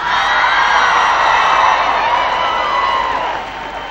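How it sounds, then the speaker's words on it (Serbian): Audience in Borik hall, Banja Luka, applauding and cheering at an awards show, a dense, loud wash of clapping and whoops held steady for several seconds before easing slightly at the end. "molim vas za Banja Luku jedan aplauz"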